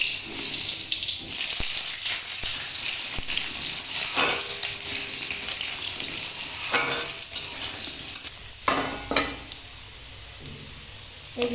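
Cut potato pieces hit very hot oil and set off a loud frying sizzle, then faint scraping and clattering pan sounds with stirring toward the end.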